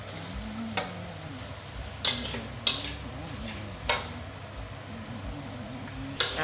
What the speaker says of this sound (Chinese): 现在下番茄了